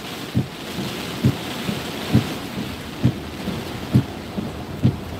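Heavy rain from Tropical Storm Michael hisses steadily and close, with low, soft thumps recurring about once a second beneath it and no voices.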